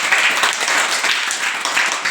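A school audience in Vadhiya applauds to welcome guests at a blanket distribution event, giving a dense, continuous burst of many hands clapping close by for a couple of seconds.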